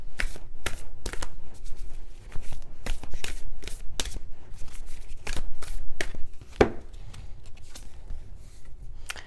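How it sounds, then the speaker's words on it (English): Oracle cards are shuffled by hand, a steady run of crisp riffling slaps and flutters repeating close up for several seconds, with a brief scrape near the end. "let's pull you some oracle cards."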